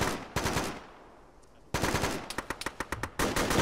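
Machine gun fire in a military shooter game: sustained loud automatic bursts, a short pause, then a long burst breaking into quick individual shots and a final volley, close and dominant with no talk.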